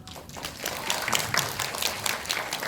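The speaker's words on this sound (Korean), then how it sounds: "그 큰 박수로 환영을 해주세요." Audience applause welcoming guests at a science forum, a dense patter of clapping that swells after a brief quiet start and holds steady to the end.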